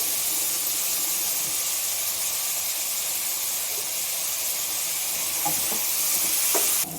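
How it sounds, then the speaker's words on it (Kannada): Long-cut eggplant fries in a pan with cooking oil, a loud, steady hiss that holds throughout and turns slightly harsher near the end, with a few faint clinks and no talking. "ಬದನೆಕಾಯಿ ಹಾಕಿ ಚೆನ್ನಾಗಿ ಫ್ರೈ ಮಾಡಿ."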